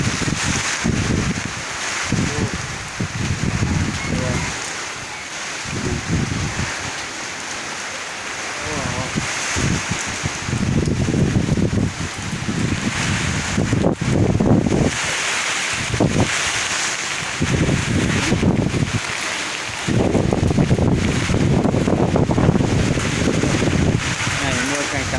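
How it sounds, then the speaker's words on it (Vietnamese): Heavy rain pours down outdoors on a rural roof or tiles, a dense hiss that swells and fades in gusts, mixed with wind, while people talk at times. "Này mưa càng càng lớn rồi."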